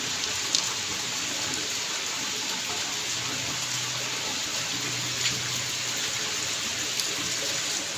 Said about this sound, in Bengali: বাইরে প্রচুর বৃষ্টি হচ্ছে জল ঠল জমে যাচ্ছে